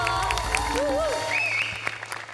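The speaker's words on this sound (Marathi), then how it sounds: "मला उभं राहून टाळ्या वाजवायच्या आहेत." Audience applauding a stage performance on a Marathi comedy show: a short burst of clapping with some crowd noise, heard together with cheering voices and a musical tone.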